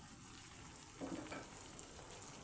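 Ginger garlic paste frying with softened tomatoes in a pan for a prawn curry: a faint, continuous hiss with one soft stirring scrape partway through, no voices.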